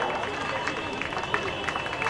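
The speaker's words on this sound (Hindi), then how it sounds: "चलिए जोरदार तालियां बच्ची के लिए" Applause at a drawing competition prize ceremony for a girl who won a cash prize, a dense patter of clapping hands that carries on steadily across the whole stretch.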